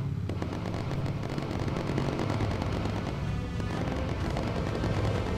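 Dense, continuous gunfire from a WWII bomber's turrets in the Bomber Crew game, a rumbling wash of rapid shots and booms that stays loud throughout without speech.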